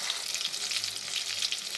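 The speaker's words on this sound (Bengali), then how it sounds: "মাছগুলো একদিকে ভাজা হয়ে গেছে, তাই আমি উল্টে দিয়েছি।" Fish frying in hot oil in a pan after being flipped, a dense steady sizzle close up with no talk.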